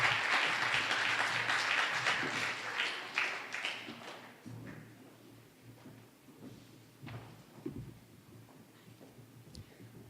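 Lecture-hall audience applauding to welcome a speaker at a distinguished entrepreneurial lecture, a dense sustained clatter of clapping that gradually thins and fades over about ten seconds, with no voices.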